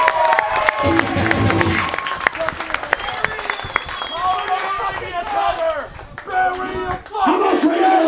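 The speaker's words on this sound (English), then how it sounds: "Tampa, give yourselves a round of applause," Crowd at a live metal concert in Tampa, Florida, roaring with applause, claps and cheers, dense and loud throughout with shouts and voices rising above the mass of noise.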